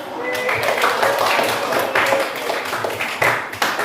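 A junior high school classroom full of students clapping together, a dense steady patter of applause with a few louder bursts near the end.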